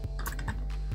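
Fingers tap out a few quick keystrokes on a computer keyboard, close and clear, in a brief irregular burst.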